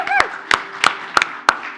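A small congregation gives a brief, sparse round of applause for March birthdays, about five separate close claps spaced evenly apart.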